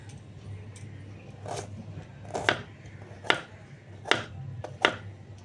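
Onions being chopped on a board for a katla fish curry, five or six separate knife strikes at an uneven pace over a low hum, close and clear.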